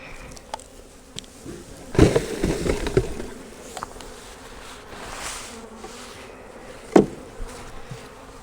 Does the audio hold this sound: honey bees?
yes